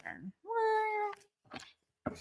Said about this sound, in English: That was a weird meow.